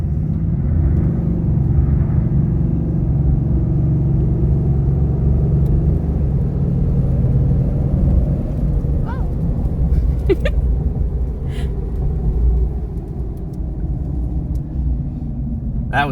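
A car launches down a drag strip in a race run, its engine a loud sustained rumble heard from inside as it accelerates, with a few brief clicks and a faint voice near the end.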